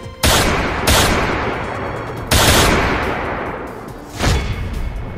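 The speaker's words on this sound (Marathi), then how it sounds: "4 राऊंड फायरिंग।" Four loud gunshots ring out in a street shooting in Pune where a rickshaw was stopped. Three come close together in the first half and a fourth follows after a pause, each a sharp crack with a long echoing tail, and no voices are heard.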